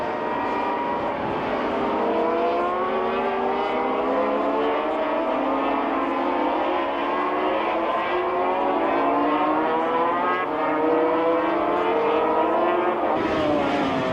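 Grand Prix racing motorcycles from the late 1980s scream past on a circuit, a loud, continuous high-revving engine wail whose pitch sweeps and shifts steadily for the whole stretch, with no voices over it.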